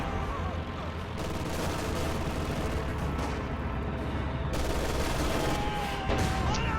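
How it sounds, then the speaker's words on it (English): An incendiary bombing run in a strategy video game roars on with dense, continuous explosions and rattling gunfire, a loud unbroken barrage with faint voices buried in the din. "Allies are just getting bled by the incendiary bombing run."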